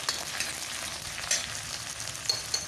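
Ginger garlic paste frying in hot oil for a mixed vegetable dish, a soft steady sizzle with faint crackles and a few light utensil clicks, close and fairly quiet.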